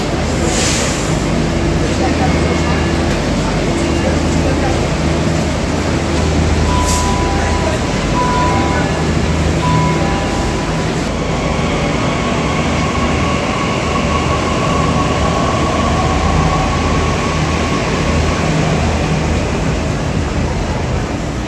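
Loud, continuous rumble of a Delhi Metro train running underground, with rattling wheels and a faint whining tone rising midway.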